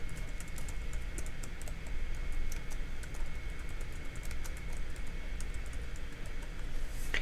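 Rapid, steady typing on a computer keyboard, keys clattering continuously and close up with no voices.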